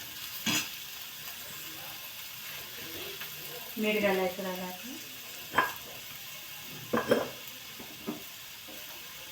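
Tempering for paneer bhurji, with fried peas, sizzling in a pan as a continuous low hiss broken by a few sharp stirring clanks, while someone speaks briefly over it.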